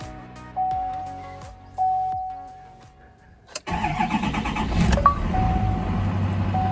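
A 2019 Chevy Duramax truck is started: a few chimes and clicks come first, then the engine cranks and catches loudly, settling into a steady running rumble close by.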